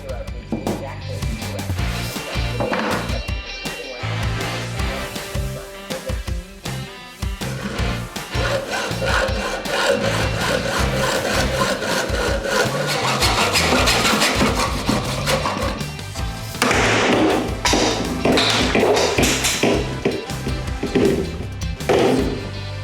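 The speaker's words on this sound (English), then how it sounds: "barrels have been cut, cleaned up, sanded, and degreased" Hand-worked model barrels being cut and sanded give dense, busy rubbing and rasping strokes throughout, close and fairly loud, mixed with knocks and bursts of background sound.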